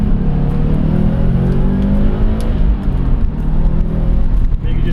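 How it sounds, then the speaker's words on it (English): A Subaru STI hatchback with a stage 2 tune pulls hard, its engine a loud, steady, close roar as turbo boost builds, with faint chirps and rattles over the dense rumble. "You can just hear that turbo boost kick in"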